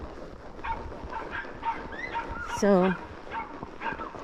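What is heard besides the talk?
dogs barking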